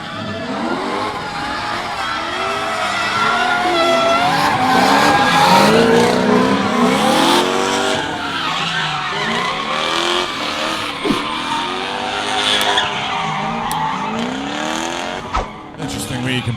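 Drift cars skid around a drift track at a competition, tires squealing in long sweeping wails while engines rev hard. An announcer talks over the action throughout.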